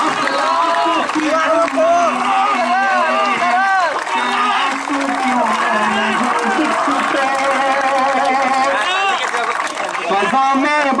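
A large crowd at a speech event at JNU university cheers, shouts and applauds in a loud, continuous roar, with many voices mixed into the noise throughout.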